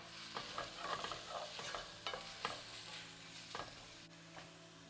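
Chopped onion frying in a pan for a chickpea coconut spinach curry, a quiet continuous sizzle punctuated by irregular spatula taps and scrapes.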